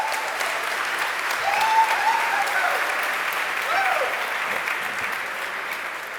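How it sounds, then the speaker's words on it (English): Conference crowd at a JavaScript event claps for a speaker taking the stage, broad sustained applause with a few faint cheers and voices rising above it. "please give a lot of applause to Alex Sexton."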